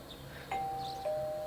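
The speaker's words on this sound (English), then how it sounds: "That was a doorbell in the game, right?" A house doorbell in the video game Persona 4 Golden rings a clean two-tone ding-dong, each chime sustained and clear over a quiet background.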